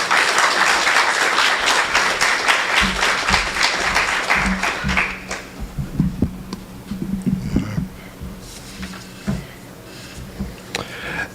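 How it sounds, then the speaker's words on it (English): Applause from a high school public speaking class for a student speaker fills the first five seconds as dense clapping, then thins into scattered claps and light room noise. "Everybody give a round of applause to Justin."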